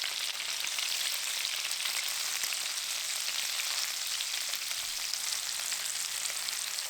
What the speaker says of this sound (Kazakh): Сондықтан да жоғарғы отта әр жағын 1 минуттай қуырамыз